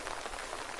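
Rain beginning to fall outdoors as a group leaves a hacienda before a flash flood, heard as a steady soft patter of raindrops on a surface, close and even, with no talking.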